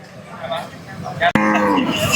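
A Kangayam native cow at the Palayakottai cattle market lets out one loud, close, drawn-out moo after a sharp click, over faint background voices.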